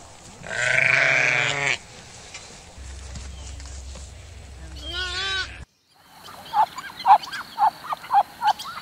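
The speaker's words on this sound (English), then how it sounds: "Sheep." Sheep bleat in a farm-animal sound sequence, two loud wavering bleats near the start. Then come a pause and a series of short honking animal calls, close and clear.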